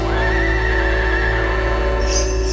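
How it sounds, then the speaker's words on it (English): A horse whinnies once with a rising, drawn-out neigh over a steady musical hum and bell-like tones, fairly loud and close. "Where's that horse? I gotta pull that sled there. Let me hear the horse."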